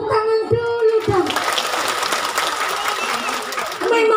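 An audience applauds at an Indonesian Islamic sermon: a dense, steady wash of clapping rises after a brief voice and continues for several seconds before speech resumes.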